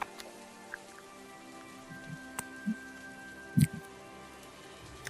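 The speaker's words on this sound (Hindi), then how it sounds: "रास्ते पर केवल बारिश की आवाज और चारों तरफ खामोशी छाई हुई थी।" Rain falling on a deserted road in soft, scattered taps and patters, close but quiet, with a faint steady hum behind and a few sharper isolated drops.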